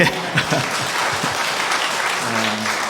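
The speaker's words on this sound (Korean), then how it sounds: "할렐루야 할 때 박수 치셔야 되는데" A church congregation claps in a steady wash of many hands, loud and close, with a faint voice briefly audible beneath it.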